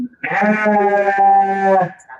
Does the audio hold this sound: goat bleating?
yes